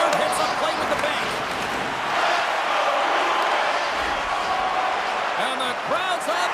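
Crowd cheering and roaring in an NHL 25 hockey video game, Boston at Los Angeles, a steady dense wash of arena noise throughout with a commentator talking over it.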